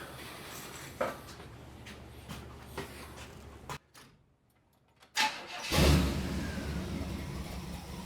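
A 1959 Pontiac engine, its carburetor freshly cleaned, cranks and fires up after a quiet gap, then settles into a loud, steady idle close by.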